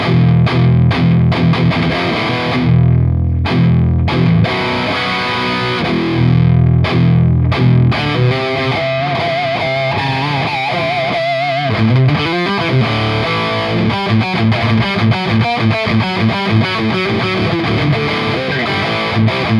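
Heavily distorted, palm-muted metal guitar through an ENGL Artist Edition 100 amp plays loud and continuous, with tight percussive chugs and fast choppy riffing in the second half.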